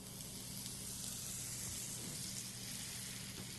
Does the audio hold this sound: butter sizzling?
yes